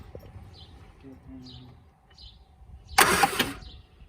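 A 1973 Triumph Spitfire 1500 engine is cranked over in a short, loud burst of starter noise after a quiet stretch with faint background sounds, including birds.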